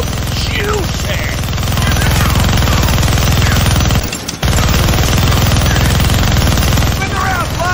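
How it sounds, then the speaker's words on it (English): A minigun fires in the Deadpool video game: a loud, sustained stream of rapid shots with a short gap partway through. Brief voice sounds come through alongside the fire. "Gonna need both hands to shoot that minigun."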